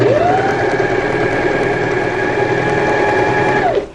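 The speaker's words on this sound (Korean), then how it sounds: "옆 노루발 시접을 간격을 두고 박음질 하시면 좋습니다" A sewing machine runs a seam on a double-frilled two-person pillow with a steady motor whir and rapid stitching, close and loud, ramping up at the start and winding down just before the end.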